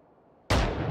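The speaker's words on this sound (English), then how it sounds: "Flashbang!" A flashbang detonates in Valorant during a collegiate match, Northwood University against St. Clair College: a single sudden loud bang after near-silence, followed by a sustained bright ringing wash.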